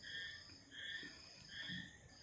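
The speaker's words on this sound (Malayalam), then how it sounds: "തവള കരയുന്ന സൗണ്ട് ഞാൻ മിണ്ടാതിരിക്കാൻ പറഞ്ഞിട്ടും കേൾക്കുന്നില്ല." Frogs croak faintly near a balcony outdoors, in about three evenly spaced, repeating pulses of shrill calls over a quiet background.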